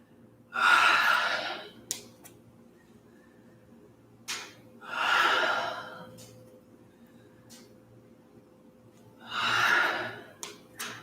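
Deep breathing during a kriya yoga exercise: three long, loud, rushing breaths spaced several seconds apart, close to the listener, with quiet between them and no talk.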